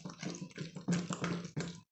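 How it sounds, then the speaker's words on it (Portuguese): Water poured slowly into an 8-litre bucket while making liquid soap from oil and caustic soda, an uneven gurgling splash in several pulses with short pauses, close and with no talking. "Agora aqui vamos colocar devagar a água natural, né? Que é bem devagar e mexendo."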